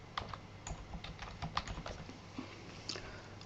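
Quick clattering keystrokes on a computer keyboard while a title is entered, irregular light taps in short bursts, close and fairly quiet, with no talking.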